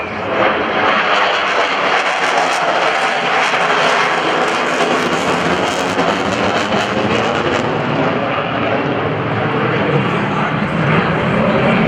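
An F/A-18F Super Hornet's engine roars in full afterburner at an airshow, a loud, continuous, broadband blast with crackling texture, sustained throughout, a voice faintly present beneath.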